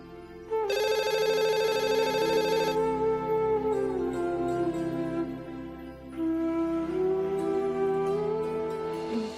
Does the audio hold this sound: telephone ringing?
yes